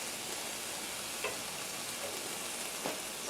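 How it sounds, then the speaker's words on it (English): Ground meat browning in a pan with pepper, mustard and Worcestershire sauce, giving a steady close sizzle with a few soft scrapes of a stirring utensil. "you keep stirring until the meat loses its pink color"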